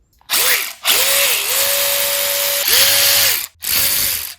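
A DeWalt 12V cordless electric ratchet with a 5 amp hour battery whirs loudly in several close bursts, short pulses then a long sustained run, its motor pitch dipping briefly as it spins up.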